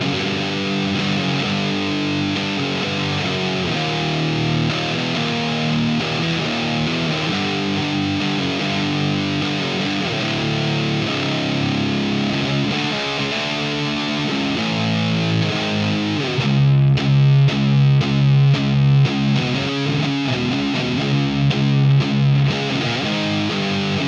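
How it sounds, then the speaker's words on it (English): Electric guitar through an Orange Super Crush 100 solid-state amp with the gain turned up, loud, fuzzed-out high-gain chords ringing and sustaining, ending in a rhythmic run of heavy chugging strums with no talking. "when you bring up the gain, it really gets fuzzed out, and it's great for like stoner"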